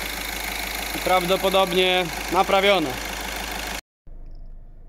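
A cold Skoda Octavia II 1.6 TDI diesel engine idles steadily at close range with the hood open, a constant rumble under a man's speech, then cuts off sharply for a moment.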